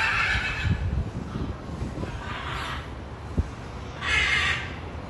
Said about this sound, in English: footage of what appears to be parrots squawking on different occasions